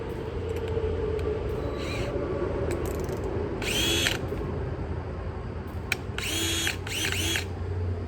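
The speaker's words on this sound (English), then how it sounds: "we're drilling through some wood, but we're also drilling through some metal" A power drill fitted with a cobalt bit bores through wood and metal in a steady, droning whir, broken by several short high-pitched bursts as the bit bites, with no talking.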